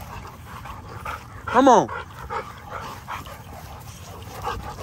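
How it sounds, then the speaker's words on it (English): XL American Bully puppies play-wrestle and one lets out a loud, rising whine or yelp, followed by softer whimpers and scuffling; someone talks over the sounds. "I'm gonna show y'all the puppies, man."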